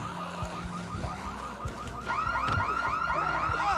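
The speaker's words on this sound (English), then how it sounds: "The zombies can trigger alarm." A car alarm set off by zombies in Project Zomboid wails continuously with rapid repeating warbling sweeps, fairly close and steady, growing slightly louder partway through, with scattered thuds underneath.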